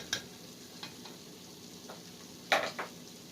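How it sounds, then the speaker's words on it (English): Flour roux cooking in a pan, a soft steady sizzle with a few scraping, clicking stirs, the loudest sharp scrape near the end, close and quiet with no talking. "just going to stir this until I cook this flour"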